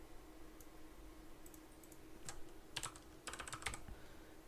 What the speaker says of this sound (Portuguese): Digitar Ryan 2 vezes.